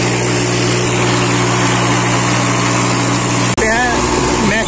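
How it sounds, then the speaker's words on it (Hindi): A Massey Ferguson 8055 tractor works at a rally demonstration in Shamli, Uttar Pradesh, its engine droning steadily and loudly before an abrupt cut to a different scene with a continuing engine hum and brief voices. "जैसा कि आप देख सकते हैं बहुत ही जबरदस्त परफॉर्मेंस के साथ में ट्रैक्टर अपना काम कर रहा"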